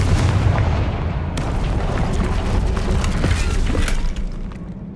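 A Confringo blasting spell detonates in the Hogwarts Legacy video game, a sustained loud rumbling blast with heavy low-end roar and crackling debris that carries on for several seconds.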